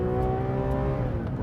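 A car engine roars at steady high revs, loud and close, its smooth droning tone accelerating slightly across a short stretch of circuit with no voices.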